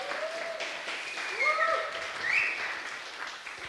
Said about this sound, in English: I think we can get another round of applause